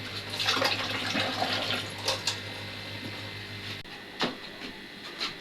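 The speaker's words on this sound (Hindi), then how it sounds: "फटाफट से जी चावल भी धो लेते हैं।" Rice is being washed under running tap water, with water splashing and rushing steadily in the foreground. Irregular louder splashes and sloshes come through a hum, and a brief dip in the middle is followed by further scattered splashes.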